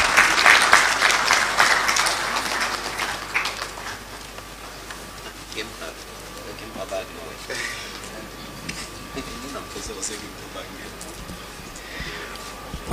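Applause from the audience at a law alumni association launch and public lecture, welcoming a government minister; it is loud at first, then fades over several seconds into quieter room noise with scattered claps.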